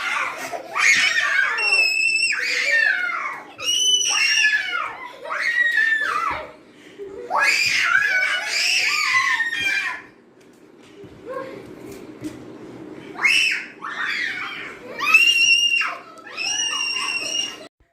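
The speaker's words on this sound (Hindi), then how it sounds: "इस वक्त जो है ना वो बच्चे माशाल्लाह खूब चीखो पुकार मचा कर ना खूब खेल रहे हैं" Children screaming and laughing as they play at home, loud shrieks and giggles coming in bursts separated by short quieter gaps, with some childish chatter mixed in.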